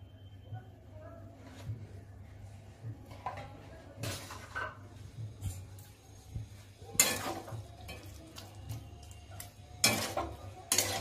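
A spoon stirs cooked chicken in a pot after a pinch of garam masala goes in, for chicken tehari, making soft scattered scrapes and clinks against the metal, with a few louder clatters near the end.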